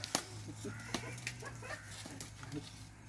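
A chicken clucks in short, scattered bursts at moderate distance, with a low steady hum running underneath throughout.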